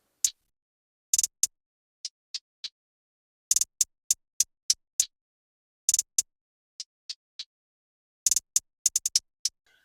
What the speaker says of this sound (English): when we add both of the hi-hats together,